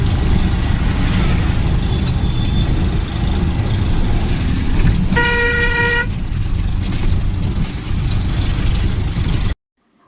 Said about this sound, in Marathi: रिक्षामध्ये बसलो आणि निघालो स्टेशनच्या दिशेने.